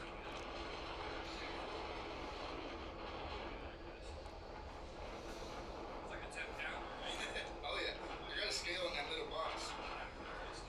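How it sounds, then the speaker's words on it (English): Wind gusts over a choppy lake during bass fishing, a steady low roar buffeting the microphone that continues throughout, faint and distant. "You can hear the wind."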